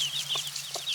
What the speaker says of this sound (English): that's a little chicken.